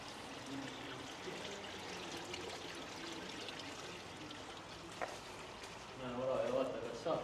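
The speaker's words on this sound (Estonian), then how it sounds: "Vesi voolab ja..." Water flows steadily at the mouth of a cave in Sigulda, a continuous rushing wash that swells slightly near the end, with some low background voices.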